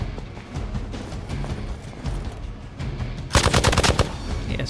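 Rapid bursts of gunfire in a video game, with steady automatic fire throughout and a louder, denser volley near the end, set against game ambience.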